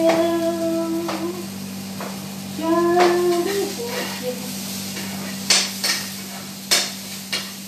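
Onion sweating in a pan for beef stroganoff, a soft sizzle with stirring clatter and a few sharp utensil knocks against the pan, beneath a steady kitchen hum; a voice briefly speaks early on.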